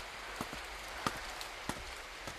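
Rain falls steadily as a soft hiss, broken by a few scattered louder drops or taps striking a surface nearby, with no speech.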